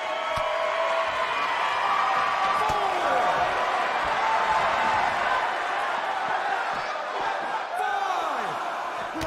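A capacity wrestling arena crowd roars and cheers continuously, a dense, loud wash of voices, with a commentator talking over it.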